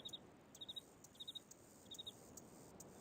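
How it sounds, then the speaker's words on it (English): Crickets chirp in the Riven video game world, short high-pitched trills repeating in small clusters of three or four over a quiet, faint background. "Hey, you hear crickets too."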